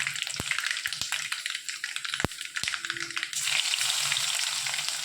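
Mustard seeds and chili frying in hot oil for a beetroot rasam: a steady close sizzle with sharp pops and crackles from the seeds, growing fuller and louder toward the end, no talking.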